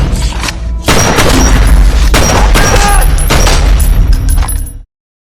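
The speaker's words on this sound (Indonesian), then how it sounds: "Lantas Mike pun langsung menekan tombol peledak itu dan pada akhirnya mereka pun tewas." Explosives going off in a film scene: a rapid series of loud booms and crashing blasts rolling one after another for several seconds, then cutting to silence.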